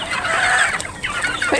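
A young stag rooster lets out loud, close clucking calls with a brief crowing quality, a few rough squawks in quick succession with no talk over them.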